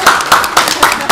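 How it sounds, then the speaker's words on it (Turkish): Rhythmic, steady clapping at a child's birthday celebration in a restaurant: five evenly spaced, loud, close claps in quick succession. "Alkış."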